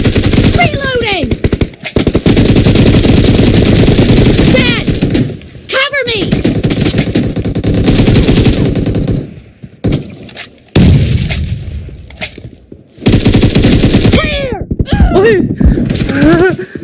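AKM assault rifle fire in a mobile shooter game, with loud, close rapid automatic bursts broken by short pauses and dropouts, plus game effects and brief voice sounds.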